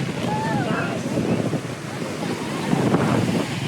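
Ocean waves and surf on a beach with strong rip currents, a loud continuous roar of breaking water mixed with wind buffeting the microphone, with faint voices in the background.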